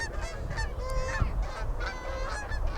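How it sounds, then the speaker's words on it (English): A flock of Canada geese honks repeatedly overhead during a rugby match, many overlapping nasal calls in quick succession over a low background rumble. "those Canadian geese going overhead again"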